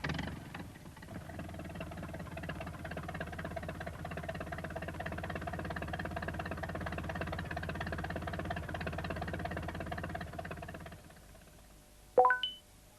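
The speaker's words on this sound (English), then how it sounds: "Peter Fogg brought the tractor to tow Pat out." A farm tractor engine runs steadily while towing a van stuck in mud, a continuous mid-loud rumble with knocking texture that cuts off near the end, followed by a brief sharp tonal beep.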